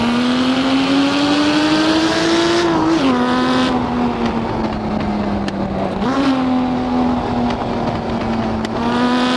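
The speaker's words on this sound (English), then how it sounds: "Oh, the sounds of the pops as the car decelerates." A Lamborghini Miura P400SV in the racing game Assetto Corsa roars loudly and continuously, its engine note rising, dipping as it comes off throttle with crackling exhaust pops, then climbing again; no one speaks.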